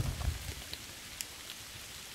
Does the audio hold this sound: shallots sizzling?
no